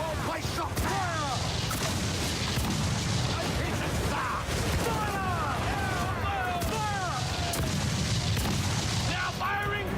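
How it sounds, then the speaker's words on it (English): Broadside from a pirate ship's cannons in Assassin's Creed 4: Black Flag, repeated booms rolling one after another over busy battle noise, with shouted voices and whistling, crackling debris throughout. "Ready to fire, sir! Fire!"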